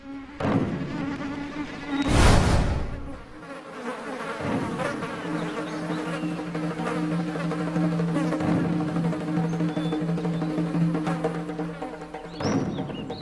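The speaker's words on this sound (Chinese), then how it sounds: "苍蝇聚于死者发间。" Flies swarming in a dead person's hair, a continuous close insect buzz with steady droning tones, punctuated by a couple of louder thumps, one near the start and another near the end.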